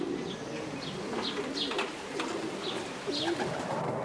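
Homing pigeons coo repeatedly in soft, rolling calls, several birds close by over a steady background hum with no talking.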